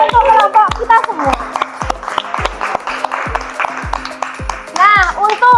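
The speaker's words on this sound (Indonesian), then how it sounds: "Tepuk tangan untuk kelompok kita semua." A classroom of students claps together for a group after a performance. The applause comes in short, uneven bursts, mixed with children's voices and an adult speaking over it.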